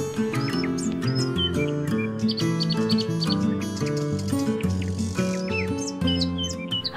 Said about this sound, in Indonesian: Allah juga menciptakan berbagai jenis burung yang terbang di udara